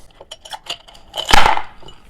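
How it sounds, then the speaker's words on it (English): Ice cubes clatter and clink into a glass of fresh grapefruit juice, a few light taps followed by a louder tumbling rattle. "I'm going to add some ice to the glass."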